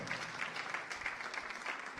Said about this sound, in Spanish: ¿Cuánto le damos un aplauso?